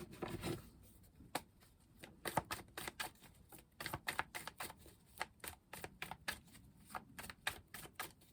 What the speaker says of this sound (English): I'll be cutting the deck.